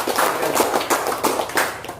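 A group of plantation workers at an Independence Day gathering claps in a loud, close burst of uneven claps with a few stronger accents. The clapping runs for about two seconds, with no talking over it.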